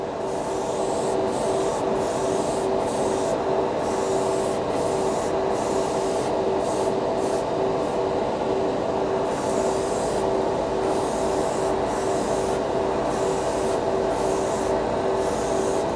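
Badger Xtreme Patriot airbrush spraying paint for model building, a steady close hiss of air and paint broken by short regular pauses as the trigger is released, running continuously without speech.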